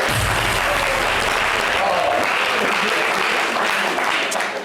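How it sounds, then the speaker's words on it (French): Loud, sustained applause from a crowd, steady clapping filling the whole stretch without a pause. "On applaudit pour Francis Ngannou, s'il vous plaît."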